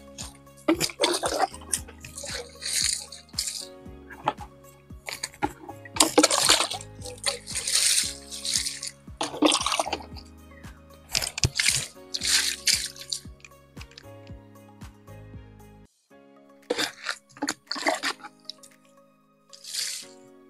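Water is poured in bursts over a motorcycle being rinsed, giving splashing gushes and drips that come and go with quiet gaps between pours.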